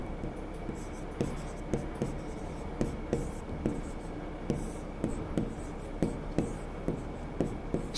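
Handwritten notes during a class, with steady pen strokes scratching on paper in a regular rhythm, close and soft, with a faint continuous background hiss.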